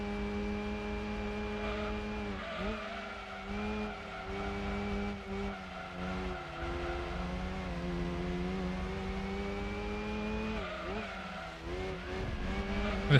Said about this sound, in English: That's the stock turbo engine noises on GT2.